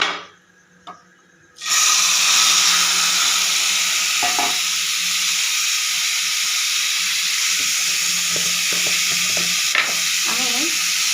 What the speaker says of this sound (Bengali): পুড়িয়ে নিয়ে এবার আমি আমটা ঢেলে দেবো।